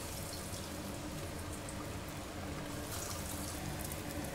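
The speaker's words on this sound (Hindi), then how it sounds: "तेल गर्म हो चुका है, अब हम इसमें ये टिक्की डाल देंगे।" Aloo tikki potato patties sizzle in hot oil in a home kitchen, giving a steady, dense crackling hiss close up that carries on without pause.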